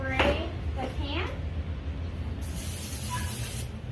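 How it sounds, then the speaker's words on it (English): Cooking spray hisses onto a baking pan in a home kitchen, a steady spray lasting about a second and a half, preceded by brief speech and low background rumble. "I'm just gonna spray the pan"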